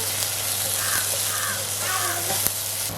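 Chopped onions sautéing with salt in a pan for a Jaffna-style gram curry, giving a steady, close sizzle with a faint stirring scrape near the end.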